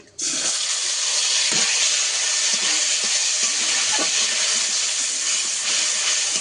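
Tomato paste sizzles loudly in a hot pan with dried red chilli and whole garam masala spices for a vegetarian paneer curry, a steady bright hiss with faint clinks, no talking.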